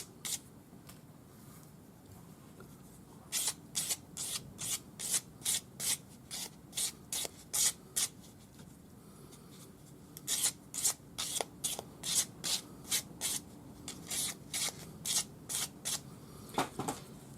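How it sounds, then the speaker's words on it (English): Metal wire ends for embossed disc earrings are rubbed on wet or dry sandpaper, making close, rhythmic bursts of scratchy strokes in quick groups separated by short pauses, with no talk. "sandpaper on it, wet or dry. Sand the ends, just to make sure that there are no"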